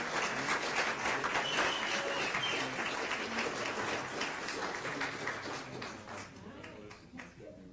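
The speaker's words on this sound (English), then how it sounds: "a big round of applause for them" A crowd at an annual meeting claps in sustained applause, loud and dense, gradually thinning toward the end.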